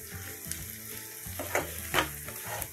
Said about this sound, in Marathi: थोडंसं परतून घ्यायचं मसाला टाकून